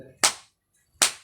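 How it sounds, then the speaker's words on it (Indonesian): Two loud, sharp hand claps, close and crisp, spaced under a second apart with near silence between them. "Tepuk tangan 3 kali keras."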